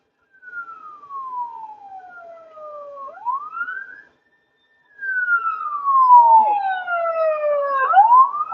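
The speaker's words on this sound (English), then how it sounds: "emergency cars." Sirens from emergency vehicles passing along a street at night wail in rising and falling sweeps, one fading before a second, louder siren sweeps through close by.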